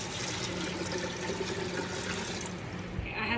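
Filtered water poured over blackberries in a pot for canning juice, a steady splashing pour heard close and continuous, tapering off at the end.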